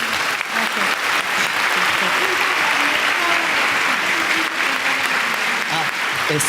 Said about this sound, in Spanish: me gustaría que le dieran un fuerte aplauso a la doctora